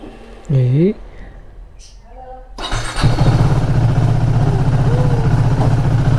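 A KTM RC390 motorcycle being wheeled out of a service center after a new engine installation, its engine starting and settling into a steady, loud idle after a few brief voices and clanks.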